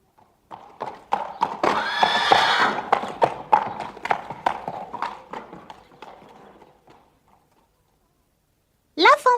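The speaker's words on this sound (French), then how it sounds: "les sabots des chevaux sur le pavé" Horses' hooves clatter on cobblestones in a rapid clip-clop that swells and then fades away, followed after a pause by a short, sharp horse whinny.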